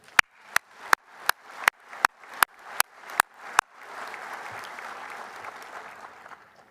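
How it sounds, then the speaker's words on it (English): An audience applauds at a building safety conference: about ten sharp, evenly spaced single claps come first, then a loud, steady burst of many hands clapping together, with no voices. "Please join me in a round of applause to once again thank them for their hard work."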